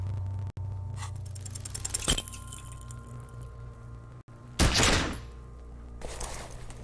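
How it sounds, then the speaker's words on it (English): A gun explodes in the player's hands in the video game Disco Elysium, a sharp crack and a louder blast over a low droning game soundtrack, followed by a hissing rush. "You hear an explosion within the weapon in your hands."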